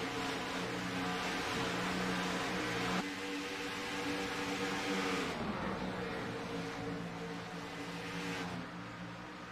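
Race cars running in a motorsport race, engines droning in a steady loud layered roar that rises and shifts as cars sweep past, continuous throughout with no talking.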